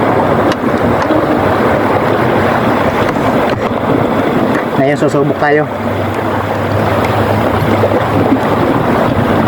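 Loud, steady rushing wind buffets the microphone throughout, with a brief spoken phrase near the middle.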